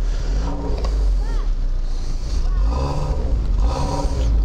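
A 4x4 car labours up a small sandy slope, its engine droning loud and close with strained revving surges that rise and fall, while someone talks over it.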